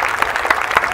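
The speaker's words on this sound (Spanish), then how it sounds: "le damos un fuerte aplauso por haber estado acompañándonos" Audience applause at a Tijuana presentation of a Tecate song, heard as a steady, close clatter of many hands with a few sharper claps standing out over a short stretch.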